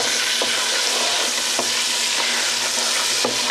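Dried oregano cooking in butter in a pan over medium heat, a steady close sizzle with a few soft clicks of a utensil stirring, no voices.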